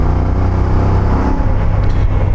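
A CF Moto 450MT motorcycle engine revving while riding, a loud, steady growling drone with rumbling road and wind noise throughout, heard close with no talking.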